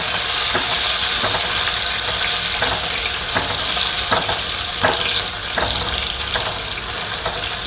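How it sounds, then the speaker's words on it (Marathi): Green chillies fry in hot oil with a steady, loud broadband sizzle, stirred now and then with soft scraping strokes, and no voices over it. "अशा तेलात भाजल्या ना मिरच्या"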